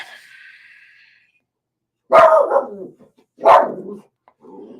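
A dog barks twice, loud and close, each bark sharp with a short rough tail, separated by about a second of silence, after a faint tonal sound at the start.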